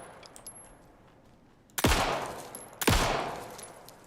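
Two loud, sharp gunshots ring out about a second apart in the survival horror video game Alan Wake 2, each with a long reverberant tail, over a quiet ambient game background.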